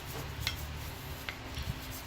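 Sandpaper rubbing corrosion and buildup off the shim contact spots of a rear brake caliper bracket on an Infiniti JX35/QX60, a steady close scratchy rasp with a few sharper scrapes.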